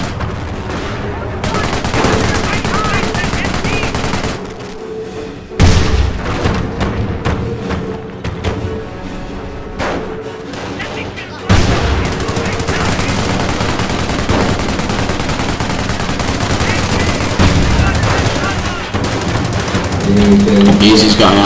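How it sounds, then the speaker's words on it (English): Automatic gunfire in a squad-based shooter video game, sustained bursts of rapid shots running through most of the stretch with heavy thumps, mixed under game music and effects. "He's got an auto gun there at the minute."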